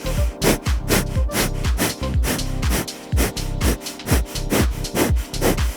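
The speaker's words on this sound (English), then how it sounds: "we'll be doing breath of fire, so it sounds a little bit like a choo-choo train." Rapid, rhythmic forceful breaths of breath-of-fire yoga breathing push in and out through the nose with lips closed, short and even like a chugging train, close and steady.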